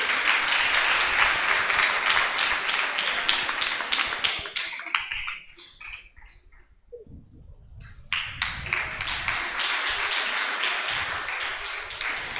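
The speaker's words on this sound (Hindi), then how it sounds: "आप तालियां बजाते रहिए।" An audience at a Delhi spiritual camp gathering applauds with dense, sustained clapping that thins and drops away midway, then swells back up to full strength and keeps going.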